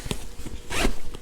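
A zipper being run along a small pouch on a 5.11 Tactical LBD Lima duffel backpack, a couple of quick rasping pulls up close with no voices.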